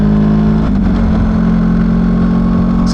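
A motorcycle ridden on the way to the gym hums with a steady engine drone and a shifting low tone as it moves, loud and close throughout, with no talking.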